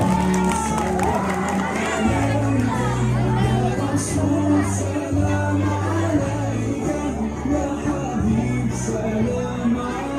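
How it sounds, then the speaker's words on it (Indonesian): A crowd at a National Teachers' Day school event cheers and shouts for teachers, with children's voices yelling over loud amplified music. The noise stays busy and loud throughout, with whoops and scattered clapping mixed in. "Kasih tepuk tangan untuk guru dari kelas 1."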